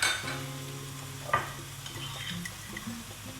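Gravy hits a pan of sizzling aubergine pakora curry, and a sharp burst of hissing follows, with stirring scrapes and softer frying crackle continuing close by.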